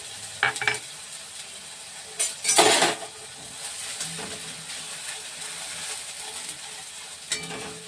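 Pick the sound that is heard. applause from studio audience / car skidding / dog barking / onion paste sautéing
onion paste sautéing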